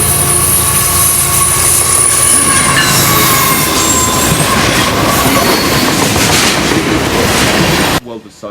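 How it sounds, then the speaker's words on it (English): Florida East Coast Railway train 101 rounds a curve at Boca Raton, rumbling loud and close with wheel squeal and rhythmic clatter for about eight seconds before cutting off. "we shoot train 101 as it rounds a curve at Boca Raton"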